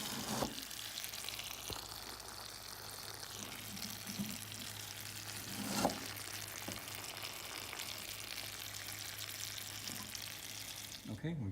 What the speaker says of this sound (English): I'm going to fill my second bucket up to that same level